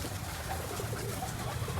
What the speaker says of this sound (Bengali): এটা মূলত লটন কবুতর